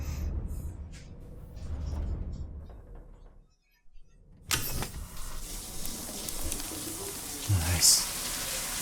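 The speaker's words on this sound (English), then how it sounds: "let's get a quick shower in and get all this blood off" Shower water runs steadily in the video game Death Stranding 2, a continuous hiss that starts abruptly after a near-silent pause and continues under a brief voice.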